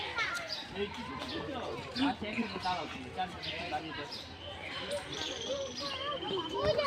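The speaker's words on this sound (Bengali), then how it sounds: "অনেক পাখি গো।" Many birds, including pelicans and large egrets, call at a zoo with a mix of chirps and tweets scattered through the clip, fairly faint under nearby chatter and children's voices.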